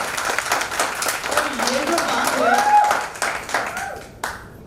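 Family guests at a 50th wedding anniversary celebration clap in a steady, dense patter throughout, with someone speaking over the applause near the microphone.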